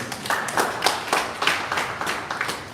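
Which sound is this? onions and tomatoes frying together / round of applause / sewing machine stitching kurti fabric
round of applause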